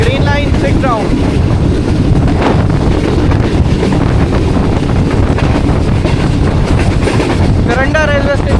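The Green Line 6 Down express runs through Pakistan, heard from onboard as a loud continuous rumble with wind buffeting the microphone and rail clatter, with brief whistle-like tones near the start and end.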